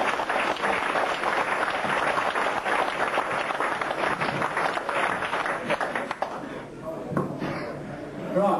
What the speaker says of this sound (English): he certainly deserves a round of applause from the membership